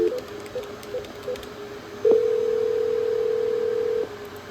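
Dial tone from a Cisco 7965 IP desk phone: a few short soft beeps, then a loud, steady continuous tone holding for about two seconds before stopping, close and clear with no talking.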